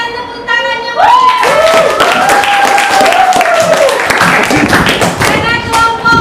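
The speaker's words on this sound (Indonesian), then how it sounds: "Berikan tepuk tangannya." Audience applause after a classroom presentation, a lively burst of clapping and thumps rising after a second and continuing under raised voices and cheering.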